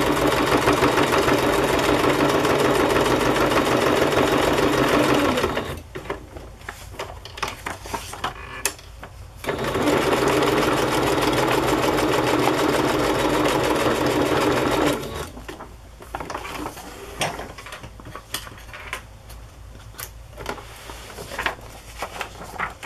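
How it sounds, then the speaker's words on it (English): A sewing machine stitches a fabric pocket onto a handmade journal, running loud and steady in long continuous bursts, pausing briefly with faint handling noises, then starting again. "I'll sew this pocket on"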